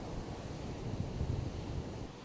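Sea waves washing onto the shore, a soft, continuous low rumble of surf mixed with wind, faint and distant, with no voices.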